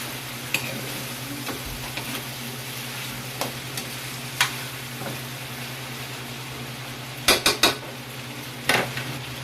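Chicken adobo fries in its own rendered fat in a pan, a soft steady sizzle broken by occasional scraping stirs and utensil clinks against the pan.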